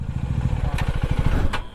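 A KTM Duke 390 motorcycle engine runs close by, its low, rhythmic pulsing thump steady throughout the ride, with two brief higher whooshes passing over it.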